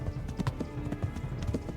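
Horse hooves in the video game Kingdom Come: Deliverance clip-clop in a quick, steady rhythm at moderate volume, a repeating galloping beat.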